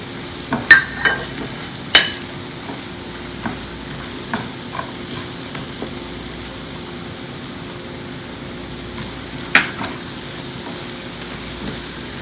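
Dry spices for a goat brain (bheja) dish fry in a pan, with a low steady sizzle and a few sharp scraping stirs at the start and again near the end, close and alone with no talk.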